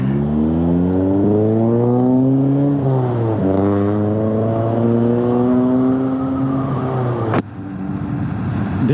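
A right-hand-drive JDM car drives past, its engine note rising and falling in a smooth droning pitch sweep, loud and close, with a sharp click near the end.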